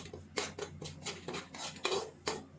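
A spoon stirs semolina halwa roasting in desi ghee, scraping the pan in a quick rhythm of repeated close strokes, with a faint sizzle underneath and no speech.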